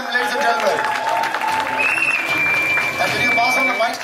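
Audience applause at an entertainment event, a loud, continuous spread of clapping with steady tonal sounds running through it.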